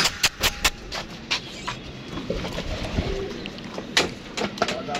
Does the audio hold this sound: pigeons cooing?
yes